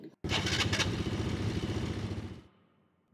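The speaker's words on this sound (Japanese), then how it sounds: "じゃあエンジンかけていきましょう。" A motorbike engine starts up loud and close while riding out with a group on a trip in Okinawa, running at a steady rumbling idle for about two seconds before cutting out, with a brief sound starting again at the end.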